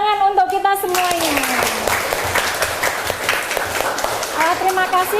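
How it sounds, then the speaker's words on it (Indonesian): Loud audience applause closing an Islamic teaching lesson in a classroom, a dense burst of many hands clapping together, with a voice speaking over the start and again briefly near the end. "tepuk tangan untuk kita semuanya"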